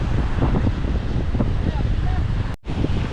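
Strong wind roars steadily over open sea beside a fishing boat, a continuous rushing buffet with faint waves beneath and a voice partly buried in the noise.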